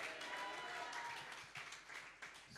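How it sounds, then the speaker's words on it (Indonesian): A church congregation claps during a worship service, dense sustained applause filling the room at close range for the whole stretch, with a few louder bursts near the end. "Berikan tepuk tangan bagi Tuhan Yesus."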